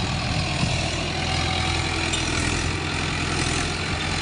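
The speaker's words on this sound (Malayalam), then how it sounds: "ഈ ട്രാക്ടർ പല ഉപകാരമുള്ള ട്രാക്ടർ." Tractor engine running on a farm plot, a loud, steady, close drone with no pauses.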